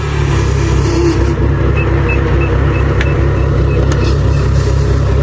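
A combine harvester engine runs in a rice field, a loud, steady low drone with constant mechanical rumble throughout and faint intermittent beeps in the background.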